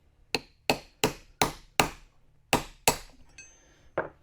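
Quick hammer taps on a socket driving a lip seal out of a water pump: about eight crisp, ringing metallic strikes in steady rhythm, close and clear, with a faint clink near the end.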